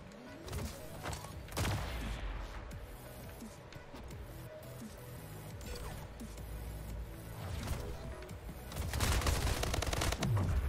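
SMG gunfire in a video game, dense rapid bursts of shots and clattering effects layered over a busy in-game soundscape, loud and continuous, swelling toward the end.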